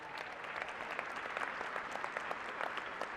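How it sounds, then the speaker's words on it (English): Audience at the SIUC fall 2021 commencement applauding steadily in a large hall, dense continuous clapping with no voices over it. "Would you give them a big round of applause?"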